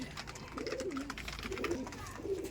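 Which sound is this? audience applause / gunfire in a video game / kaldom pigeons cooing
kaldom pigeons cooing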